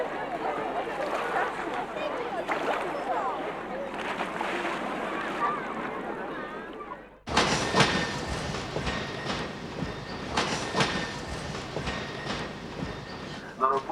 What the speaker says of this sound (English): In the evening, we took the train from Kiev to Lvov